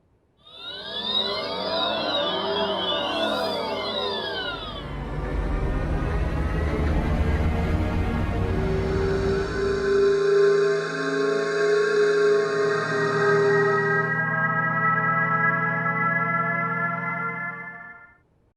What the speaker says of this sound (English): Are you familiar with the acoustic alert for pedestrians?